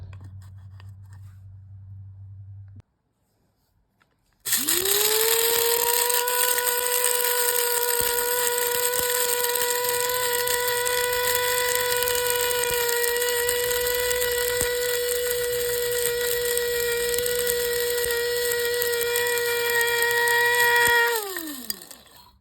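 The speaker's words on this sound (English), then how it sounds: "All right, so we're going to grind this up." An electric grinder whirs through rosemary and other dried herbs for honey incense balls. After a short pause it spins up into a loud, steady high whine that holds for about sixteen seconds, then winds down.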